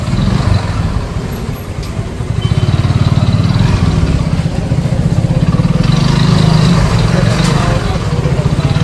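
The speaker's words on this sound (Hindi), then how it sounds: "इस जगह पर पवन भाई जैसे ही चला सकते हैं बाइक" A motorcycle engine drones loud and close with a steady low rumble while riding through narrow lanes of Banaras toward Manikarnika Ghat, holding continuously with no break for the whole stretch.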